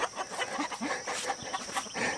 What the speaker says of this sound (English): Getting the chickens out in the mornings.